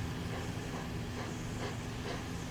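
A model steam locomotive in a train video game, with steady chuffing and hiss rolling along continuously under a broad wash of noise, loud and close without pause.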